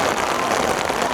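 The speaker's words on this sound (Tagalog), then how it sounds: "Malakas na ulan yan." Heavy rain pours down at an outdoor town fiesta during a boat race festival, a dense, steady hiss of falling water filling the air up close, loud and continuous without a break.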